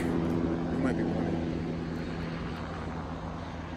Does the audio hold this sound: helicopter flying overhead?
yes